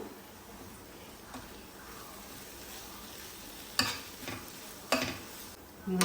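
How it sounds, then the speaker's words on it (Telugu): Pav bhaji masala and salt being stirred in a frying pan with a steady soft sizzle, broken by a few louder scraping strokes of the spoon near the end. "ఇవన్నీ వేసుకున్న తర్వాత ఒక్కసారి కలుపుకుందాం మనం"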